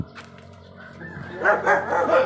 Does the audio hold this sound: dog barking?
yes